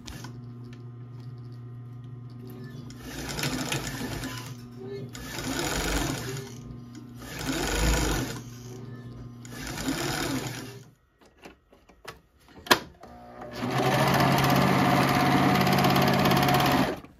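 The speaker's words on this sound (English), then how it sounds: "I used my serger to finish the waist and shoulder seams" A serger finishing the waist and shoulder seams of a dress runs in several short whirring bursts with pauses between, then a longer steady run, close and loud.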